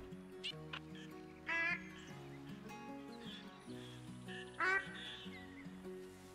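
Mallard ducks, hens along with a drake, quack in two short bursts over a steady background at a hunting spread where birds are landing. The calls sound fairly near but quiet, and no one speaks.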